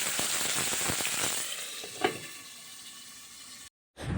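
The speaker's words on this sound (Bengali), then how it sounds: "এই মাছটা ভাজা হলে হবে মাছের ঝাল" Fish fries in a pan for a spicy fish curry, a close, continuous crackling sizzle with small pops, a brief louder spatter midway, then a short cut to silence near the end.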